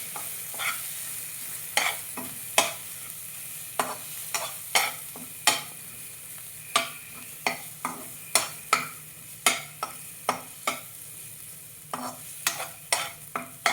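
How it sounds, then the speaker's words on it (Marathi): Coconut, ginger and garlic paste is sautéed in a pan over a low flame, a soft steady sizzle under repeated sharp scrapes and taps of a spatula stirring the paste at an irregular rhythm, close and with no talking. "खोबरं आलं लसूण पेस्ट ही इथे परतून घेणार आहे ते लो फ्लेमवरती व्यवस्थित परतून घ्यायचं आहे"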